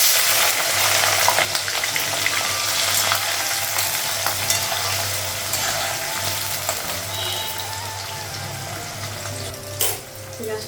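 Onions and whole cumin seeds frying in hot oil in a home kitchen pan, a continuous close sizzle with occasional stirring scrapes and faint background noises, no speech.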